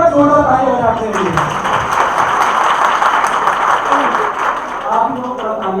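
An audience at a network marketing seminar breaks into clapping after a speaker's voice opens the moment, and a fairly loud burst of applause fills most of the stretch before easing off.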